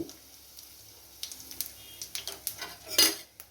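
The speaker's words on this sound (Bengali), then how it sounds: "কড়াই একটু তেল দিয়ে দিয়েছি দিয়ে দিলাম একটু সাদা জিরের ফোড়ন আর দিয়ে দিলাম সামান্য এক চিমটি হিং" Cumin seeds and a pinch of asafoetida tempering in hot oil in a wok give a faint crackle, broken by a series of quick metal spoon clinks and stirring scrapes, with a louder clatter near the end and no talking.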